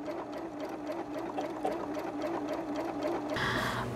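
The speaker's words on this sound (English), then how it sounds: "So this stitch is going to create a nice little triple stitch along the outside" A Janome sewing machine runs steadily while sewing a triple stitch, a continuous close mechanical whir that shifts to a higher, brighter tone near the end.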